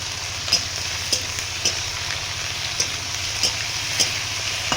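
Monsoon leafy greens and vegetables fry in a pan with a steady hiss, marked by soft, regularly spaced taps of a stirring spoon roughly every half second.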